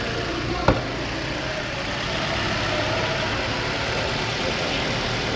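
A Mazda6 engine idles with a steady, even hum and a constant background drone, following one sharp click near the start; the car has a high-RPM idle fault.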